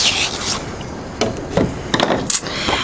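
A scoring tool drawn firmly along paper cardstock at the half-inch mark, heard as close, dry rubbing scrapes in several short strokes with brief pauses between them, no voices.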